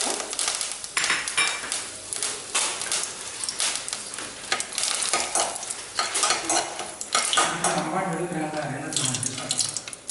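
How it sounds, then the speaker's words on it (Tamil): Tempering spices and curry leaves sizzle and crackle in hot oil while being stirred with clattering scrapes, for Madurai green chilli mutton curry; a continuous, close, busy sizzle with a voice briefly heard. "இப்போது நம்ம தாளிக்கிறதுக்கு எடுத்து வச்ச ஐட்டம் எல்லாத்தையும் போட்டு"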